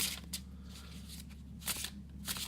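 A tarot card deck is overhand shuffled from the side, soft close papery riffles and slides in irregular bursts, faint over a low steady hum with no talk.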